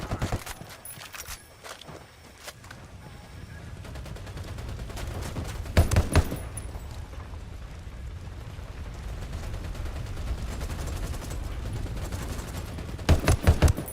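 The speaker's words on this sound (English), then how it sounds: "I'm opening fire." Gunfire in Ghost Recon Wildlands, heard as bursts and volleys of shots over a steady rumbling background, with sharp clusters near the six-second mark and again at the end.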